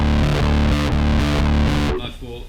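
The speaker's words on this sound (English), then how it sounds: "they come about because the combinations of the distortions and the octaves make them sound synthy" Bass guitar on channel A, run through distortion and octave effects for a thick, synth-like tone, plays a loud, steady run of repeated notes for about two seconds before ringing out and decaying.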